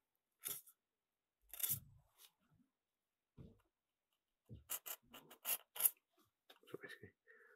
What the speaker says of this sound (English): I'm just going to use the sort of edge tool. Just score it off there like that.